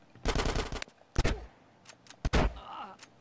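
Shotgun blasts in GTA San Andreas, three loud, close bursts separated by short pauses, some with a rattling tail and a low groan between them.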